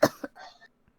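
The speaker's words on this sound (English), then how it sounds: "This just seemed to make her cough." A woman in a video game gives a couple of quick, close, wet coughs followed by a short raspy breath, brief and fairly loud.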